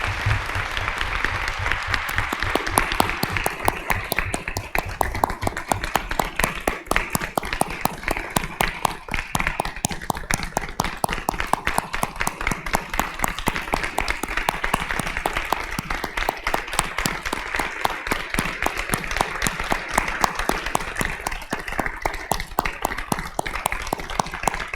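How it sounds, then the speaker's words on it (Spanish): Sustained, dense applause fills a tribute ceremony for Dr. Ana Flisser at Mexico's National Academy of Medicine. Many hands clap steadily and evenly for over twenty seconds with no voices on top. "Un aplauso para la doctora Ana Flisser."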